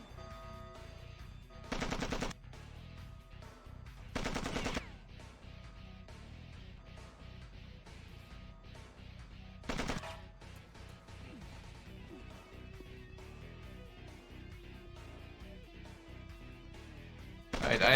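Machine pistol fire from a Mission: Impossible video game rips out in three distinct bursts, two early and one near the middle. The shots sound loud and close over a steady game background hum.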